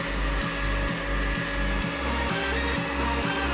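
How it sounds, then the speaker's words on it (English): A heat gun warming the glue behind a car headlight blows with a steady whirring hum, close and continuous, its motor tone shifting slightly in pitch with a faint periodic pulsing. "use a heat gun if it's giving you troubles"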